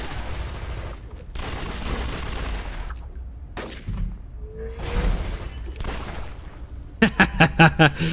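Gunfire with fire bullets in a shooter video game, heard as a rapid string of about five loud, evenly spaced shots at the end, after a stretch of game noise and background clatter.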